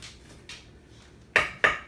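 A knife dices an onion on a cutting board in a kitchen, producing a few soft taps and then two sharp, close chops against the board, with no talk.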